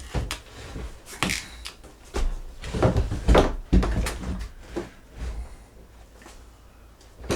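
A 24-inch interior pantry door is handled during installation, with a series of close wooden knocks, thumps and rattles at irregular intervals.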